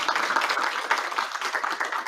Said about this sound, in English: we want to give them a round of applause for their participation as well